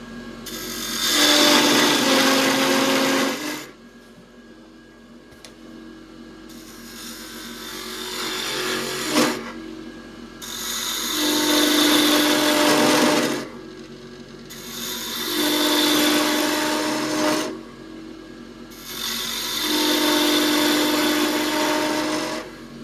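Wood lathe turning a wooden spin top, a loud gouge cutting and rubbing the bevel across the spinning wood in four long bursts of scraping, hissing noise separated by brief pauses with the motor humming underneath.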